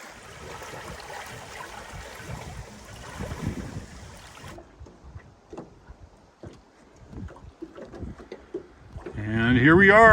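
Fishing boats being loaded at a lake in Minnesota: scattered knocks and bumps, soft water sounds and people talking, with a louder motor-like swell near the end.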